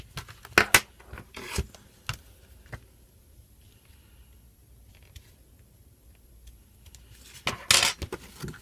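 Holes being punched through a laminated traveler's notebook insert: a few sharp, close crunching clicks near the start and a cluster again near the end, with quiet handling between, no talking.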